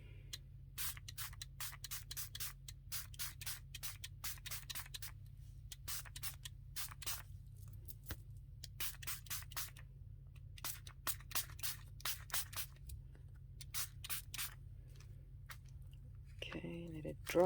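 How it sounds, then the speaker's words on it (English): Spray bottle spritzing a rusty hinge in a junk journal craft project, a long series of quick, sharp spray bursts in irregular clusters over steady low background hum, ending with a brief handling rustle. "So the rusty hinge, and I'm going to spritz again."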